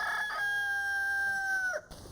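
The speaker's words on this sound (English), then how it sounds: "That's Reggie the rooster." A rooster at an animal shelter crows once, a single loud, clear, drawn-out call close by, ending in a short clucking drop.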